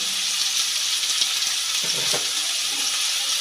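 Sliced potato and onion frying in oil with turmeric and salt, a steady bright sizzle with a few soft stirring knocks, close and continuous.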